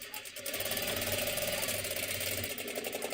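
Sewing machine stitching a jacket, a continuous close motor whir with a rapid rhythmic needle beat held steady throughout.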